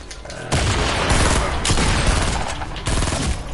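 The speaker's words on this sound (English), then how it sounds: "I'm just going to throw one grenade there, follow it up with a second grenade" Grenade blasts and rapid gunfire in the Fortnite video game, a dense run of loud booming bursts and crackling shots in quick succession, harsh and close with brief dips between impacts.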